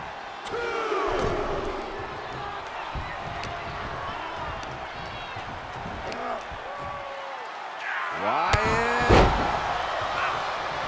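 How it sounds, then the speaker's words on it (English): Arena crowd roaring steadily throughout a Brock Lesnar versus Bray Wyatt match in the WWE 2K23 wrestling video game, loud and sustained, with heavy slams and thuds on top and a commentator talking over it. "The sound of this crowd is deafening"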